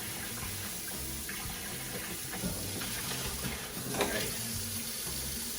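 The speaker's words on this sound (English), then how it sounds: "Might as well rinse some dishes out" Kitchen tap water runs steadily into a sink while dishes are rinsed, a constant hiss with light clinks and splashes, moderately close and without talk.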